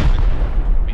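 A single heavy, booming rocket blast from a rocket launcher fired at a tank in the video game Rust, loud and close, filling the whole brief moment with low rumble.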